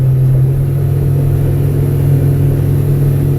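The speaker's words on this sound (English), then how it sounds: "Then you listen to the motor, right about there." A 180 Sportsman boat's outboard motor accelerates against a river current, a loud, steady mid-pitched engine drone with a strong low hum that holds close and constant throughout.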